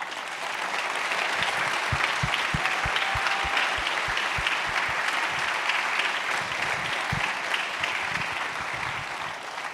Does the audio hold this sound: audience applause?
yes